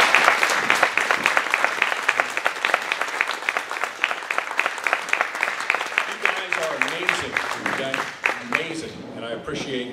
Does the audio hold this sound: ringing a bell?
no